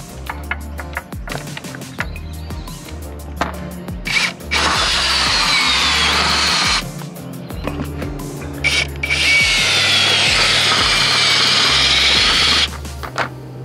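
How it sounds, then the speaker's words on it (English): A power drill drives awning ground dogs into the earth, with two long, loud stretches of whining motor and grinding, each preceded by short bursts and clicks. "Got to make sure your drill's tight,"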